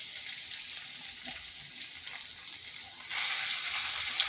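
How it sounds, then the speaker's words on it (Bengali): Ginger paste sizzles in a pan alongside lightly fried potatoes, a constant crackling hiss that suddenly grows louder and brighter partway through, with no talking. "এটাকে একটু এভাবে ভেজে নিচ্ছি। যাতে আদার কাঁচা গন্ধটা চলে যায়।"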